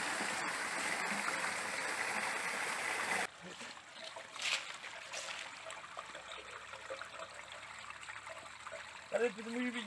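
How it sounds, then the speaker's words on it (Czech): Water gushing from the waste container of a motorhome being emptied, a loud steady rush for about three seconds that cuts off abruptly, followed by quiet trickles, splashes and brief voices. "Vypouštění kontejneru poprvé."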